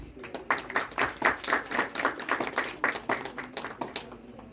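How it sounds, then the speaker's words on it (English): Audience clapping after a performance at a school interdisciplinary project event, heard as a run of distinct, fairly quick claps, moderately faint and somewhat uneven, as from a small group. "for amazing performance, we should not stop our clapping"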